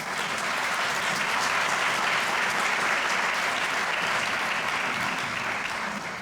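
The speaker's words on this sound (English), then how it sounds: "Can we give them a round of applause?" A luncheon crowd at a mayor's minority and women owned business event breaks into sustained applause, a thick, even wash of many hands clapping at a constant level.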